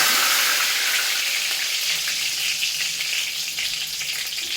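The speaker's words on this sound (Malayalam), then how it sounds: "നമുക്കിതൊന്ന് പൊരിച്ചെടുക്കാം." Curry leaves fry in hot oil for a dry shark pickle, giving a loud, dense, continuous sizzle that eases slightly toward the end.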